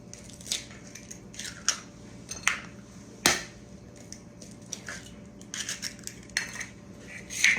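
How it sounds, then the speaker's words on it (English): Whisking large eggs in a small antique bowl in a home kitchen, irregular light clinks and taps of utensil on dish with soft wet squishing, close and fairly quiet, one sharper clack standing out midway. "I'm gonna go ahead and mix them up a little bit before I put it in there"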